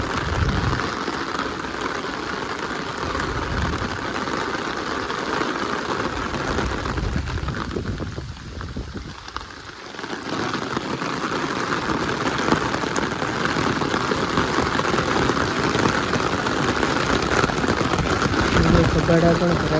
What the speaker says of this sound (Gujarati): તો મિત્રો ફૂલ વરસાદ આવ્યો છે